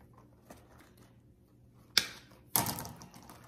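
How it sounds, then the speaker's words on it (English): Two crisp snips of scissors cutting flower stems for a Christmas kitchen arrangement, each a sharp close cut, the second a little longer, with a quiet room around them. "And I'm simply going to trim off some of these stems."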